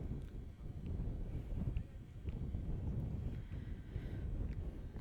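Gusty wind buffets an outdoor baseball field, a steady low rumble of air over the microphone that swells and eases throughout, with no voices over it.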